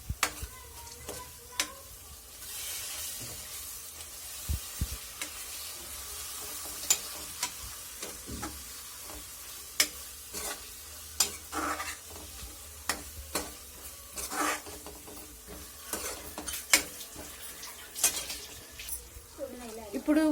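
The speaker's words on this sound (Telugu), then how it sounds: "ఇప్పుడు పుదీనా కూడా కొంచెం ఫ్రై చేసుకొని ఇందులో బోటీని యాడ్ చేసుకుందాం." Mint leaves and turmeric fry in a pan for boti fry, a soft sizzle under repeated scraping, clinking stirs with a spoon, irregular sharp taps throughout.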